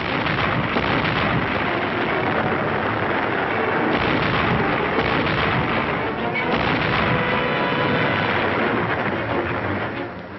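Artillery battery firing continuously from entrenched positions near a rock outcrop in a World War II Pacific battle against Japanese forces, a dense unbroken roar of overlapping gun blasts, loud and sustained throughout.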